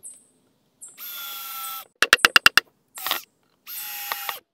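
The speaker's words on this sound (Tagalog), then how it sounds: "Now, maglalagay na po tayo ng screw na naman." A power drill whirs in short bursts while driving screws into a wooden beehive frame, with a rapid run of sharp clicking ratchet pulses in the middle; the bursts are close and loud, separated by brief silences.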